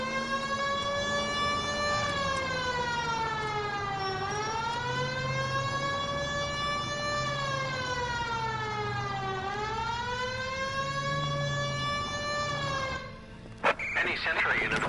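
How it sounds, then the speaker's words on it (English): Police car siren in the video game LA Noire wails loud and steady for about thirteen seconds, rising and falling in long sweeps, then cuts off abruptly, leaving brief clicks and faint noise. "Hit the siren."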